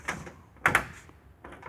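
A car's driver door shuts with a solid, close thud, followed by fainter clicks and handling noises.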